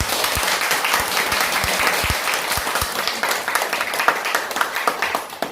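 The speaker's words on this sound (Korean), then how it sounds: "권사님께 뜨거운 박수를 한 번 더." A church congregation applauding a guest speaker at a worship service, many people clapping loudly and steadily in a continuous warm roar, with a few individual claps standing out and no speech over it.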